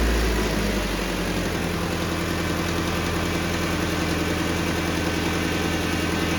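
A car engine cranks briefly and catches, then settles into a steady, loud idle close by with no jump pack attached, running on its own without talk.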